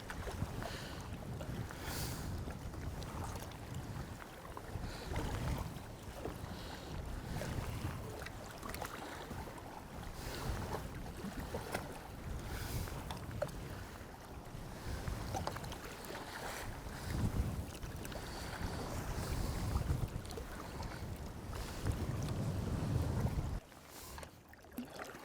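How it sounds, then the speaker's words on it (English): Wind blows hard over open water while crossing the Sound of Mull by small boat, a continuous rushing buffet against the microphone with gusts rising and falling over steady wave wash. "Well, the wind's picked up."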